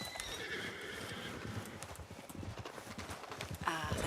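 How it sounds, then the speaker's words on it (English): In Red Dead Redemption 2 a horse's hooves clip-clop in a quick, steady galloping rhythm while the horse whinnies and neighs, fairly faint throughout with a louder whinny near the end. "let's get on that horse and get this moving."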